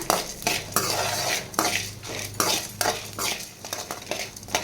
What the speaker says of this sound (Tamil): வாசனை வர வரையும் நல்லா வறுத்துக்கோங்க.